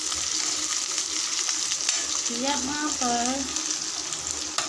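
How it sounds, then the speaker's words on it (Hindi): Onions hit hot ghee in a pan and fry with a constant, close hissing sizzle. A voice briefly speaks over it midway. "घी को गर्म करने के बाद मैंने इसमें डायरेक्ट प्याज ऐड कर दिए।"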